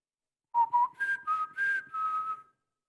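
A person whistles in imitation of a blackbird's song, a clear gentle run of short rising and sliding notes, soft and alone in quiet surroundings.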